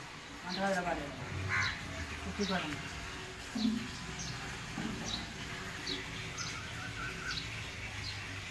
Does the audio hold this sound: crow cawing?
yes